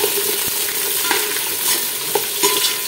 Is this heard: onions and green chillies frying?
yes